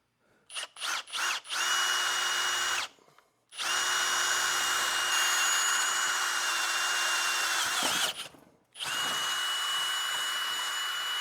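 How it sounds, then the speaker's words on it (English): A power drill with a 5/16 drill bit bores into metal during brake booster delete and rust repair work on a K-swap car project, running in several long steady whirring bursts after a few short trigger blips, with brief pauses between. "obviously step it up to the bigger one, which I think this is a 5/16 drill bit"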